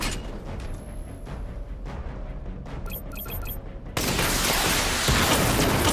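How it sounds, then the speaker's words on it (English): Missile barrage fires in the Batman: Arkham Knight video game, a dense run of rapid launches and booms that swells into a loud, sustained roaring blast with no talk. "Charge up missile barrage to level 2 and destroy 4 active targets to complete diagnostic test"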